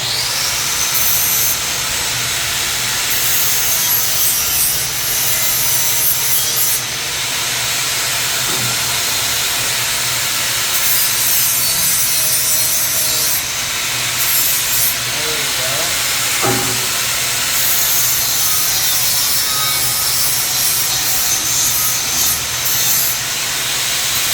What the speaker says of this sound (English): Let me grind some of this flash off here that I welded before.